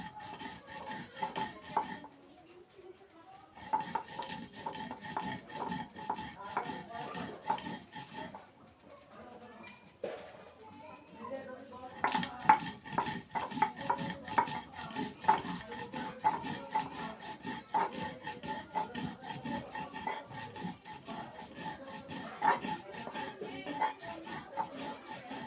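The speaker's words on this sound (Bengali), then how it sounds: "যে জিরা, এলাচ ফল আর গরম মশলা ছাল একসাথেই বেটে নেবো।" Cumin, cardamom and cinnamon bark are ground together on a grinding stone, a long run of rhythmic rough rubbing strokes, fairly quiet and close, with brief pauses between stretches.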